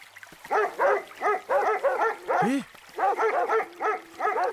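A scout dog barks in quick repeated bursts of short, close, sharp woofs with brief pauses, one lower yelp in the middle, and no talking, in a dubbed Hindi horror film scene.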